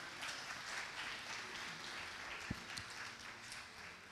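A church congregation applauds the bishop at a Sunday service, a steady, faint wash of clapping from many hands heard at a distance.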